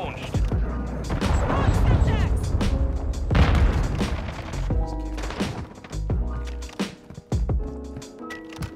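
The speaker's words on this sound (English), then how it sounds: "Hostile cruise missile launched." Heavy booming cruise missile explosions in the Modern Warfare 2 video game, a series of loud rumbling blasts and crashes over several seconds, dense and close with layered game sound effects.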